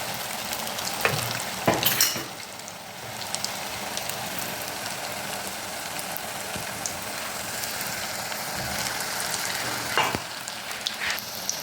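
Pieces of makrout dough, a traditional Algerian sweet, fry in hot oil with a constant close sizzle and bubbling, broken by a few sharp scrapes and clinks of a utensil.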